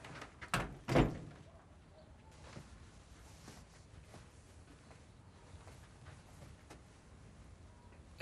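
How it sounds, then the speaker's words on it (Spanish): A door swings shut in a dramatic film scene, two close thuds in quick succession, the second heavier, then a quiet room with faint background noise and no talk. "Pase y cierre la puerta."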